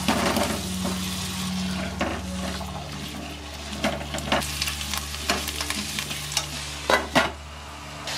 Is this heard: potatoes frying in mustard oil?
yes